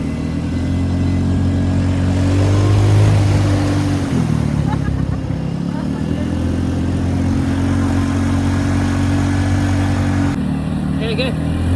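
Steady low engine rumble of an idling ATV on a jungle trail, continuous and fairly loud, with a slight rise in revs partway through and faint voices underneath.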